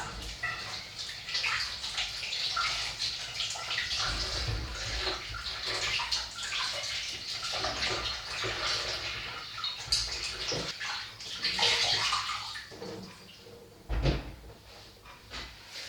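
Lukewarm tap water runs steadily into a sink while fruit and vegetables are washed, a continuous close splashing with occasional louder bursts and clunks, no talking.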